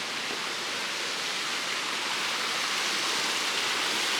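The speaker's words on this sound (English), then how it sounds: "it's a cascade, so it comes down the mountain" A small roadside cascade tumbles down a mountainside in the Great Smoky Mountains, a steady, close rushing hiss of falling water that stays even throughout.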